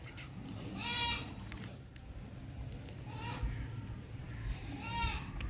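Goats of a breed kept for milk and kids bleat in a farm pen, three wavering calls spaced a couple of seconds apart, moderately close, over constant background chatter and rumble, with people talking throughout.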